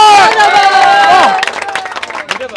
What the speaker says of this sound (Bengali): এই মুরুব্বির জন্য একটা হাততালি হয়ে যায়